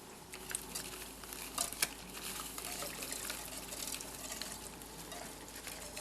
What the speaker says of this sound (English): get the whisk, and you're gonna whisk that around in there for me